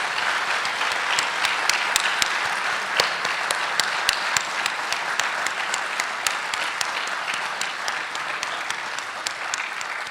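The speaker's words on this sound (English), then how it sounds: "give him a little round of applause to convey" An audience at a breakfast event gives steady, moderately loud applause for about ten seconds, individual sharp claps standing out from the dense patter of many hands, with no talking.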